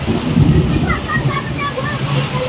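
A low, rolling rumble of thunder with lightning blends with steady rain and gusty wind near hills, while faint voices talk in the background.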